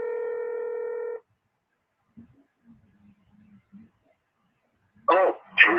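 A telephone call rings out with a single loud, steady ringing tone lasting about a second. A stretch of near silence with faint scattered sounds follows before a voice begins near the end.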